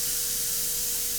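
A burger patty sizzling on a flat top grill, a bright, steady hiss of fat and moisture that holds evenly throughout, fairly close and heard on its own without talk.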